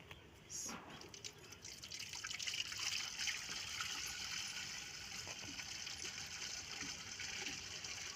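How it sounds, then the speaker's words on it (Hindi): Jaggery syrup strained through a sieve makes a steady close trickle and drip of thick liquid, pouring continuously after a brief clink at the start. "अब मैं एक दफ़ा फिर से इसे छान लूँगी ताकि जो गंद है ना इसके अंदर ना रहे।"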